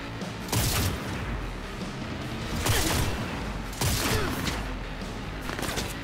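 Enemy gunfire in a Cyberpunk 2077 firefight, several bursts of shots at roughly one-second intervals with a louder cluster near the middle, heavy and fairly close over a dense background of game noise.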